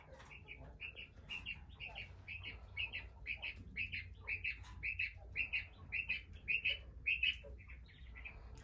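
Quail call repeatedly from close by in a rapid series of short, bright, chirping notes that grow louder toward the end, over a low background hum.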